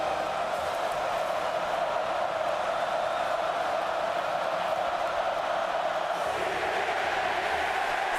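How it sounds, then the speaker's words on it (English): A football stadium crowd at a college national championship game between Indiana and Miami roars in a steady, dense wash of noise, sustained and fairly distant throughout with no clear breaks. "Sebastian's doing his thing right now, riling up the crowd."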